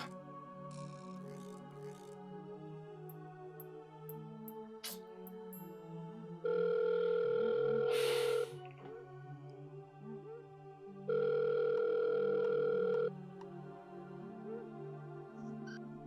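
A telephone rings unanswered in two long, loud electronic ring bursts a few seconds apart, set against a soft musical score.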